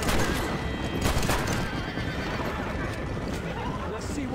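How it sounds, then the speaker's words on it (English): A horse whinnies amid loud, chaotic action in the video game Red Dead Redemption, with gunfire-like bursts and hoofbeats throughout. "I accidentally called my horse."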